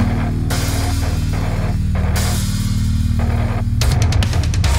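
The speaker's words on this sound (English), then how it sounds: "I just turned on our lo-fi pedal on default settings and it sounds like this." Baritone electric guitar played through a lo-fi pedal on default settings, giving filtered, muffled chugging chords with sustained low notes and choppy bursts near the end; loud and continuous, no voices.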